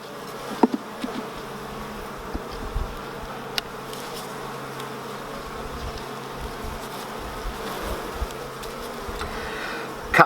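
Honeybees hum steadily in a continuous close buzz while a beehive is opened for inspection, with faint scattered taps and knocks underneath.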